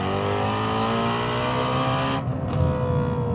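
A Ford Shelby GT350R Mustang engine screams at high rpm near 8,200, a loud sustained harmonic wail that cuts off abruptly near the end, followed by a brief blip and rough idle burble.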